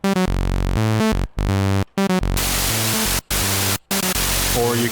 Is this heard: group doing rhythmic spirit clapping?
no